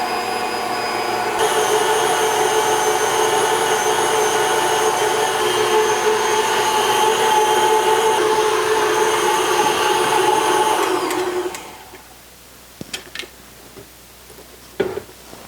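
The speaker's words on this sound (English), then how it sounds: "we'll mix this with the dough hook on a medium speed till it becomes a sticky dough" Stand mixer with a dough hook kneading sticky cheddar dill bread dough at medium speed, a steady loud motor whir with a rattling hum that runs for about eleven seconds, then cuts off, leaving a few faint clicks and knocks.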